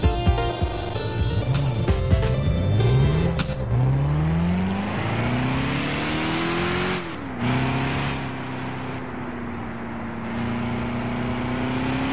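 A car engine hums and shifts pitch while driving, rising and settling through gears, loud and close with a brief dip midway, alone without talk.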